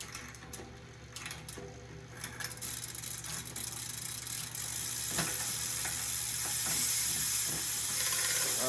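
Gears shift on a Trek Stache mountain bike with shifting problems while the rear hub ratchets loudly in a continuous buzzing whir, interrupted by clicks and clunks from the drivetrain, close up.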